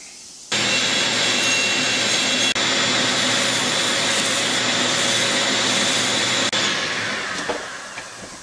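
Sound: grinding chainsaw exhaust port

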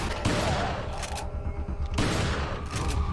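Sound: shotgun firing in the video game Resident Evil 4

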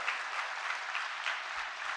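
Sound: audience applause

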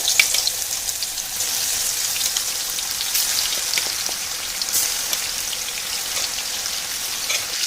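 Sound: chicken pieces frying in oil for biryani

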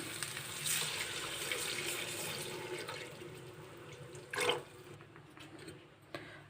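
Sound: half a litre of milk being poured into a pan

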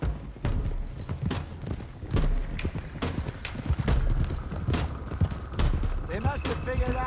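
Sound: horses riding, hooves clip-clopping, in video game Red Dead Redemption 2

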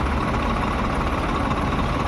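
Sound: tractor engine idling while being parked

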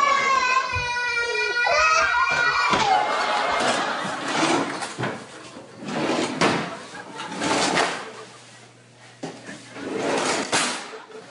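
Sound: child opening and closing toy drawers

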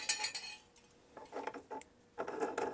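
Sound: power supply being clamped in a metal vise

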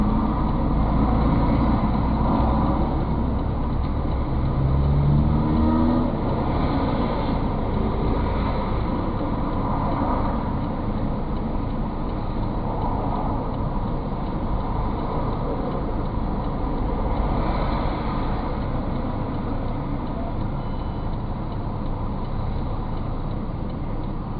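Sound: car driving away from a checkpoint

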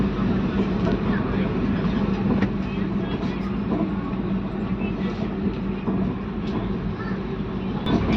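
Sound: Shatabdi express train starting to move from Tiruppur Junction

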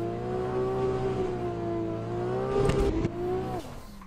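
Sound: car engine revving through upshifts in a racing video game

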